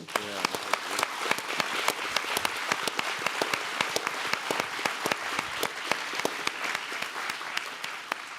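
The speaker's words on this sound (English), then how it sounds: "so I think Bill deserves a round of applause" An audience applauds at a talk on the space station and returning humans to the Moon: dense, sustained clapping from many hands, fairly even and continuous throughout, with no voices.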